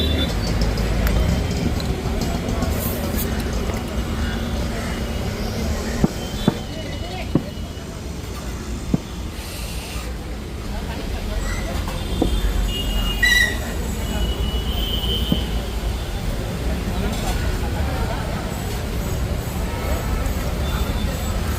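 Trains at Thane railway station in Mumbai make a constant loud rumble with wheel squeal and a few sharp metallic clanks, while a crowd murmurs throughout.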